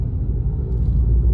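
A car driving along a road toward Snow Summit near Big Bear Lake during a wildfire, heard from inside as a steady low rumble of engine and road noise.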